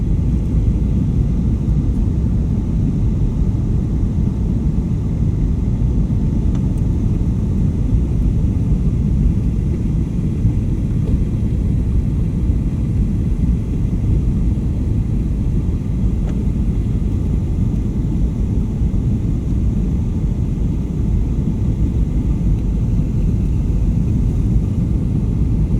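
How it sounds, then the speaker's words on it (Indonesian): Steady low cabin rumble inside a Garuda airliner shortly before landing, a continuous loud droning roar of engines and airflow with no notable changes and no voices. "Sebentar lagi pesawat Garuda yang kami tumpangi ini akan mendarat atau landing di Bandara Cilikriwut"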